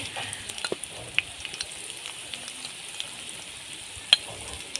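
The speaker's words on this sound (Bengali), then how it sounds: "অল্প জল দিয়ে মশলাটা ভালোভাবে কষিয়ে নেব।" Spice paste of ground ginger, garlic and cumin with turmeric and red chilli powder sizzles and fries steadily in a pan with a little water, a continuous close crackle with a few sharper pops and stirring scrapes.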